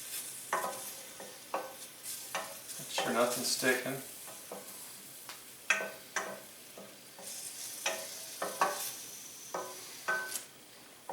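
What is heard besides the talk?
oil sizzling in a hot pan while cooking vodka sauce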